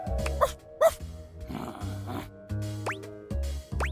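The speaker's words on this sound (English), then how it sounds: "Bark once for yes, twice for no." Cartoonish dog barks from the video game Date Everything, a few short yips and woofs spaced across the moment alongside game music and chiming tones, fairly loud and close.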